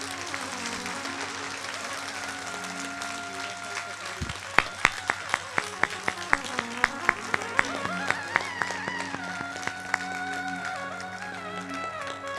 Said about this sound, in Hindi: जोरदार तालियां बजाएं आप।